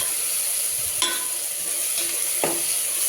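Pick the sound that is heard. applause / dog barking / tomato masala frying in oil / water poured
tomato masala frying in oil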